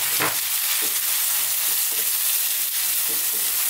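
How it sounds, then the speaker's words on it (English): Chopped fresh tomatoes with garlic ginger paste sauté in melted butter for Indian butter chicken, giving a steady close sizzle with a few soft stirring scrapes of a spoon against the pan, no talking. "let's just saute these around"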